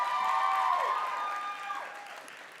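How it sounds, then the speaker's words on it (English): Applause rises from a nursing college graduation crowd for a faculty member, with bright whoops and cheering voices over the clapping that fades slightly toward the end. "round of applause for her."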